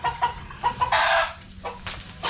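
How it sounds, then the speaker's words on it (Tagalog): Several chickens cluck in short bursts, close and fairly loud, with a brief squawk in the middle and more clucks at the end. "Mga manok"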